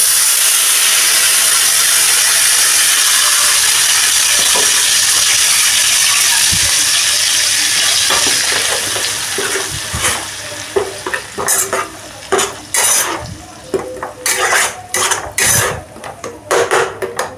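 A ground garlic spice paste hits a hot kadai with a loud, steady sizzle and hiss that fades after several seconds into rhythmic scraping and stirring against the pan.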